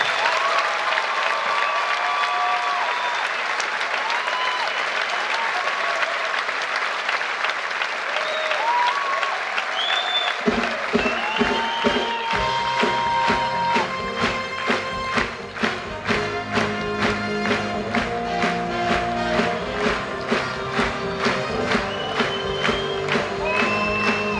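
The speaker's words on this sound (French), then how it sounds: "l'ensemble des applaudissements du public de Berlin" Circus audience in Berlin applauding and cheering at an honorary award tribute, a broad roar of applause and whoops that shifts into rhythmic clapping in unison over music, loud and sustained throughout.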